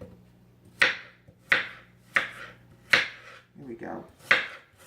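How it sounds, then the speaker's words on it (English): A knife dices apples on a cutting board, with five sharp, evenly spaced chops standing out clearly over a low background hum, and brief talk in between. "I'm going to start dicing them up into smaller pieces"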